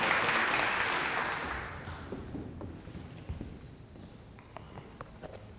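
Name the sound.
audience round of applause for a speaker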